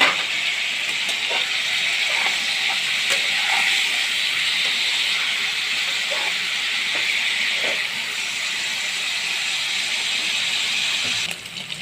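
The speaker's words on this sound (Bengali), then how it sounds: "তেলটা আমার গরম হয়ে গেছে, আমি পনিরগুলো দিয়ে দিলাম ভাজার জন্য" Paneer cubes frying in hot oil with a pinch of turmeric in a wok, giving a loud, steady hiss with scattered small crackles throughout, with no talking.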